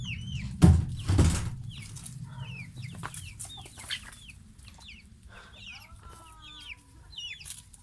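Chickens and chicks cluck and chirp softly nearby in a coop, with a couple of louder thumps early on and high peeping calls scattered throughout.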